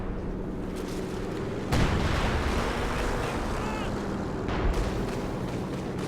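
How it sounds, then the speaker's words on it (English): An artillery barrage in the Company of Heroes 2 video game rumbles as a continuous low roar, with two sharper distant impacts punching through the steady wash of battle noise. "Now he's going for some shorter range barrages. Counter barrage."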